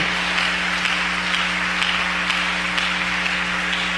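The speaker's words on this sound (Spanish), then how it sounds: "Regálale un aplauso al Señor en esta noche" A church congregation applauds together, a steady, dense wash of clapping that holds evenly for several seconds over a low sustained tone.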